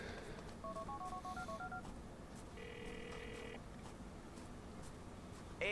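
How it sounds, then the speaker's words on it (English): An in-game phone call in Grand Theft Auto IV brings faint keypad-like beeps and a short ring tone, quiet and buried under steady game background noise, ending with a louder thump. "Should get a phone call from Derek."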